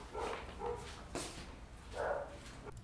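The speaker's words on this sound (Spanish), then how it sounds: "voy a cerrar la puerta del frente porque está Luz yendo a ladrar" A dog barks a few times in a home, short yelps spaced apart at moderate distance with no talk over them.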